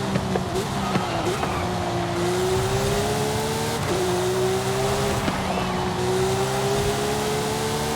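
A Porsche 911 GT3 with 859 horsepower in the Forza Horizon 5 video game revs hard and accelerates through repeated gear shifts, its engine tone climbing and dropping loudly, with someone talking over it.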